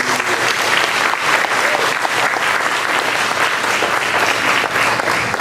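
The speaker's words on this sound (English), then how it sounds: "So that deserves a round of applause." A board of education audience applauds student achievement at a recognition ceremony, sustained loud clapping from a full room, dense and continuous for several seconds without speech.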